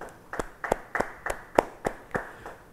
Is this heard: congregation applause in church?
yes